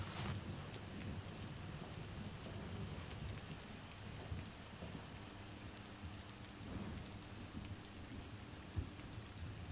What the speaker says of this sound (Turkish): yağmur çok fena